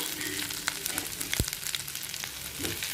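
Ginger frying in hot oil for ven pongal, a steady close sizzle with a sharp crackle burst partway through, no voices.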